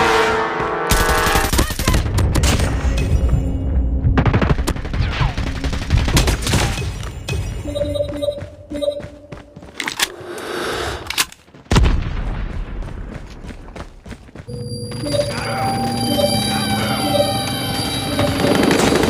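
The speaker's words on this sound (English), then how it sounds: "Enemy airstrike incoming." An enemy airstrike in a video game brings loud, repeated explosions and rattling bursts of gunfire, with heavy thumping blasts, brief gaps, and a droning, helicopter-like whine amid the chaos.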